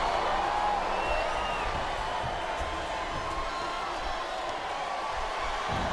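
Wrestling arena crowd at a WWE event, a continuous loud roar of cheering and whooping filling the space with no pauses.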